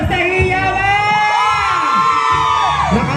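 A large outdoor crowd at a barangay wellness event for a city anniversary celebration yells, whoops and cheers loudly and continuously, with children's high shouts standing out close by.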